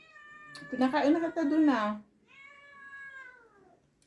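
A cat that seems sick meows twice nearby, a drawn-out plaintive cry, with a person speaking briefly around the second meow.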